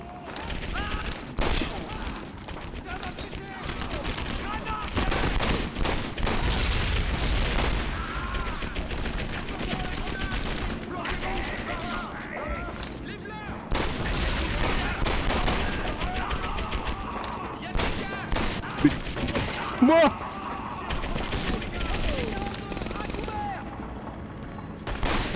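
Rapid gunfire and bullet impacts from the World War II shooter game Medal of Honor: Airborne, dense bursts of shots crackling nearly continuously throughout, with a voice talking over the battle at times.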